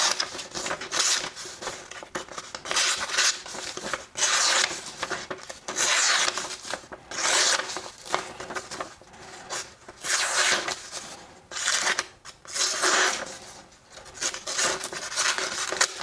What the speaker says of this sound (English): Maybe I need to work on my paper cutting skills